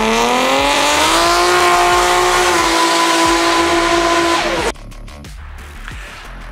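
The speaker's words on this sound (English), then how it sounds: "he has his RB 25 T400 auto swapped Stagea wagon, and it's gonna blow your socks off" A 600 hp Nissan Stagea wagon with an RB25 engine and TH400 automatic swap accelerates hard. A loud, rising engine roar climbs through a gear, then cuts off sharply into quieter rumbling and mechanical noise near the end.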